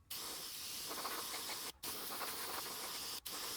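A spray gun hisses paint scales onto a lipless crankbait lure over a gill stencil, a steady, close airy spray broken by two brief pauses.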